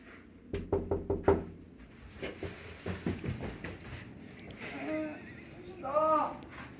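Knuckles rap on a hotel room door aboard the Queen Mary in Long Beach, California: a quick series of loud, close knocks, then another burst, with people murmuring and calling out around them.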